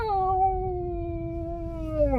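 A person's voice imitates a cat's meow for a puppy: one long, drawn-out, whining mew held steadily for about two seconds, close and clear, with no other talk.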